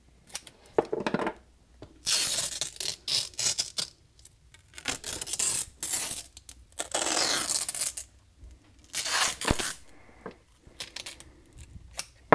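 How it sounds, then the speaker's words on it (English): Strand-reinforced clear packing tape is pulled, cut and torn in repeated bursts of ripping and snipping, close and loud, with brief pauses between pulls and no talking. "This is a clear tape with a stranding in it."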